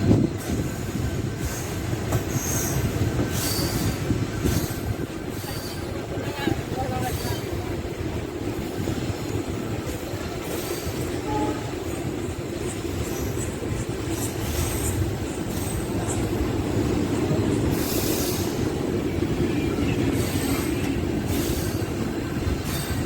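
Hundry Express passenger train pulling into Wanaparthy Road station, with loud, continuous rolling rumble, wheel clatter and high squealing from the wheels as it slows, with a voice heard faintly at moments.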